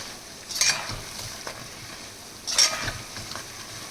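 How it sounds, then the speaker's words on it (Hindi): Namak para dough pieces frying in hot oil, a steady soft sizzle with two louder bursts of bubbling as pieces shift or are turned, close by with no voices. "देखिए कितना बढ़िया फ्राई हो रहा है।"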